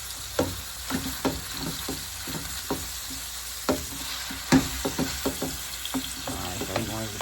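Cooked ground beef being broken apart and stirred in a hot pan for nachos, with a run of scraping, clacking utensil strokes over a steady sizzle and occasional soft voice sounds.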